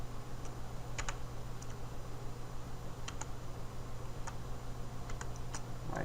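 Sparse, light keystrokes on a computer keyboard as a driver name is typed into an ODBC setup window, faint scattered clicks over a steady hum of room noise, no voices.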